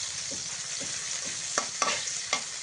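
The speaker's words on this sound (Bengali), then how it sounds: "পেঁয়াজ কুচি দিয়ে নেওয়া হয়ে গেলে নেড়ে চেড়ে নিচ্ছি" Chopped onions sizzle in a hot pan for a water lily and coconut fry, with a steady hiss of frying and several soft scraping strokes of a spatula stirring them, fairly close and without talk.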